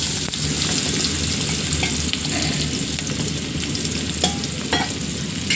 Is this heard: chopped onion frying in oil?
yes